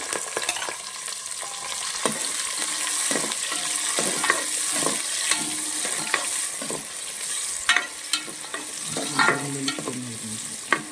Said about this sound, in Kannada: ಈರುಳ್ಳಿ ಏನಿದೆ ಅದು ಚೆನ್ನಾಗಿ ಫ್ರೈ ಆಗಬೇಕು